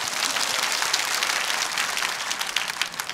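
Audience applause at a Korean patriotic rally fills the space with dense, steady clapping from a large crowd, holding at an even level throughout without a break.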